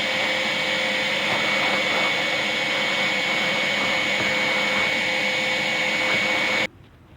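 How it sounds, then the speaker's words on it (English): A shop vac cleans the top of the fuel tank on a GM minivan with a 3.4L V6, droning as a loud, steady whine that runs throughout and then stops abruptly. "I'm going to clean the top of this off using the shop vac"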